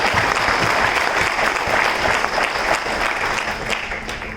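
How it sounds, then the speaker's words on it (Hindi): Loud, sustained applause from a seminar audience at a networking business event, a thick, even roar of many hands clapping close by, holding steady throughout. "एक बार जोरदार तालियां इन सभी सक्सेसफुल कंपनीज के लिए"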